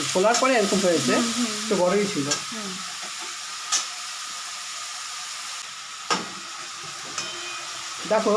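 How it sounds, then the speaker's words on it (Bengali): Prawns fry lightly in hot oil, a steady close sizzle with scattered scraping stirs and a few sharp clacks, after a brief voice-like murmur at the start. "বন্ধুরা আমার মাছটা হালকা ভেজে নিলাম হ্যাঁ"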